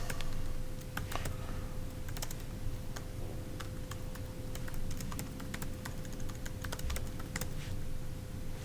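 Someone types on a computer keyboard, giving a run of quick, irregular clicking keystrokes with short pauses over a quiet room hum, close and fairly soft.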